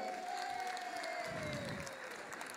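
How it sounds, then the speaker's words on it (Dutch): At a seniors' carnival party, a crowd applauds steadily in a soft, somewhat distant wash of clapping, with a faint whistle and a few cheers mixed in. "Nou, even een applaus voor Ria voor mij."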